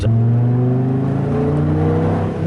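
A 2002 Dodge Viper RT/10 engine revs loudly and steadily up close, a dense rising drone with no talking over it.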